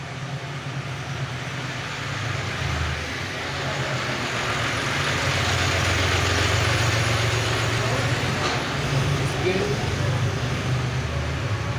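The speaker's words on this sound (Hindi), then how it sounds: "यहाँ ट्रैफिक ज़्यादा चलता है रोड के ऊपर" Continuous road traffic from vehicles passing on a busy road, a broad steady rumble and hiss that swells slightly midway, heard alone without talk.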